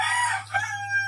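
A rooster crows once nearby, loud and clear over a faint steady background hum, in a backyard flock of chickens during a storm.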